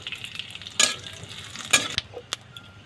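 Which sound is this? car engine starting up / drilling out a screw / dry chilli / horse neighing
dry chilli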